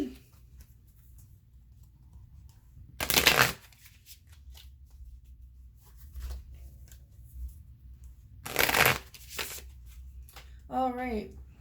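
An Osho Zen Tarot deck being shuffled in two short, crisp bursts of riffling cards separated by quiet stretches, with a brief voice near the end.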